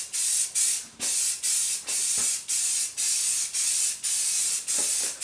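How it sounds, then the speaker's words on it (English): Rattle-can spray paint goes onto parts of a 1961 Cushman Truckster under restoration, with about nine close, loud hissing bursts in a steady rhythm separated by brief pauses, no voices. "change the direction of your spray with these rattle cans"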